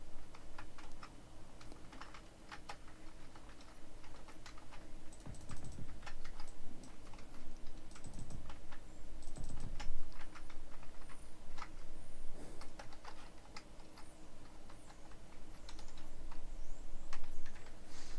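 Computer keyboard typing while playing Space Engineers, steady quiet clicks with short bursts of quicker keystrokes over faint background hum, no talking.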